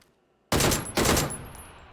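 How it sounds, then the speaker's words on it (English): Gunfire from a bot in a shooter video game: two quick loud bursts of shots about half a second apart, close and sharp, with a fading tail. "I know that's a bot shooting me."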